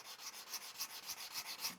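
A bone guitar nut is rubbed back and forth on sandpaper in a luthier's workshop, a quiet, close, rhythmic rasping of about a dozen even strokes with no talk.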